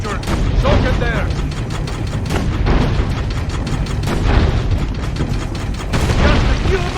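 Dense, continuous gunfire and booming blasts in the video game Assassin's Creed Brotherhood, loud and cluttered with mechanical clanks throughout, while voices talk over the battle.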